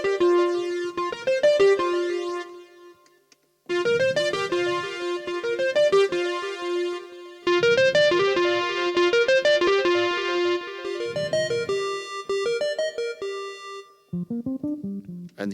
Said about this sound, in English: let's continue here with the sounds with pulse wave